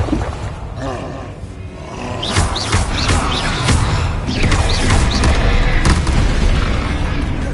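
Confringo, an explosive spell in Hogwarts Legacy, goes off in a string of booming blasts and crashes that build toward the end over dense battle noise.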